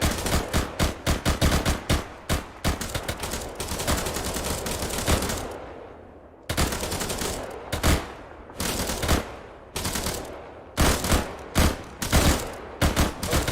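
Rapid bursts of video game gunfire crackle nonstop, with dense automatic volleys and short pauses between strings of shots, loud and close with no voices over them.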